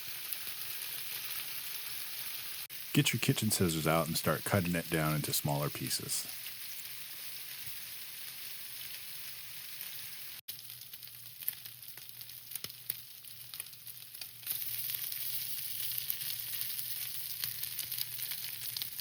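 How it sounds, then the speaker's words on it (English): Steady broadband sizzling of chicken frying in a pan, with a person speaking over it briefly early on, then the sizzle continuing alone. "so you guys can listen to the beautiful sizzle"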